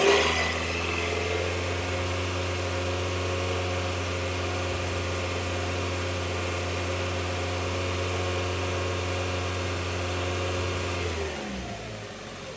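A car engine is revved and held at about 2,500 RPM during a battery test, a steady, close drone with a strong low hum lasting around eleven seconds before dropping back toward idle.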